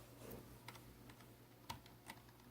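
Typing on a computer keyboard, a handful of quiet, separate key clicks in an uneven rhythm against a soft steady background hum.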